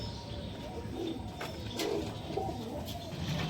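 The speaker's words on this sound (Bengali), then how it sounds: "দেখুন পায়রাগুলো।" Local high-flyer pigeons coo softly in short repeated phrases at a pigeon sale, moderately near, over a faint background hum with no talking.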